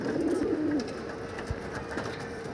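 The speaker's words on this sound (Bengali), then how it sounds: "খুব ভালো একটা কবুতর সিলভার নর কবুতরটা।" A silver male pigeon gives a short, soft, throaty coo near the start, then quiet low background with a faint knock.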